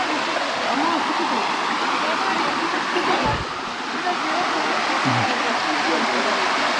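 Rushing water pours steadily at the top of the Tatlıca waterfalls in Erfelek, Sinop, a loud, even roar filling the whole clip, with a couple of brief low thumps near the middle.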